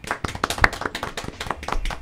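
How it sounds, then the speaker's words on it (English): Hands clap sharply into a microphone at close range, a quick run of about a dozen uneven, loud claps filling the short stretch with no talking. "let me clap into the mic"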